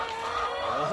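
Small chickens on a chicken farm in Baculin, Davao Oriental, cluck and chatter close by in a dense, continuous flock sound with no speech.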